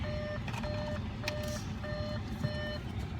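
Audi car warning chime: repeated short electronic beep bursts in groups, steady and fairly clear over a low constant rumble.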